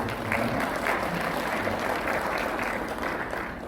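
Audience applause at a church federation's general assembly welcoming presidential office guests who stand, a continuous dense wash of many hands clapping at moderate volume, steady throughout.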